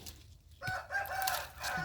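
Chickens cluck and squawk close by in a rural garden, in a few short bursts with no talk.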